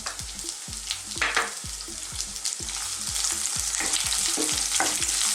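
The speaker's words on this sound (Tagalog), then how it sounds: "lulutuin lang po natin yung ating sibuyas" Onion frying in a pan for a Filipino ginataang papaya dish, a loud steady sizzle broken by repeated scraping and knocking of a spoon stirring against the pan.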